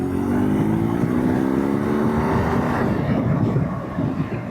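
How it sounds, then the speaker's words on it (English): The older air-cooled, oil-cooled boxer engine of a 2023 BMW R nineT Urban GS motorcycle drones steadily under acceleration, a rising engine note with heavy wind rush throughout. "type of engine noise with the Boxer engine"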